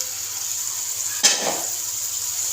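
Pumpkin pieces drop into hot frying masala with a sudden sharp sizzle that quickly fades to a softer crackle over a faint background hum.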